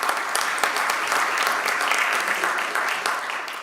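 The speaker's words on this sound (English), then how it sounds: "Please give him a big round of applause." An audience at a US–India jewelry industry trade symposium applauds with dense, steady clapping that stays loud for the whole stretch and eases slightly at the close.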